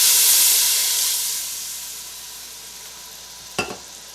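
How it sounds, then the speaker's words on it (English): Beef broth hits a hot pan for beef rouladen, giving a loud, bright sizzle and hiss that slowly fades, followed by one short clatter near the end. "I'm going to add some beef broth, 2 cups of beef broth."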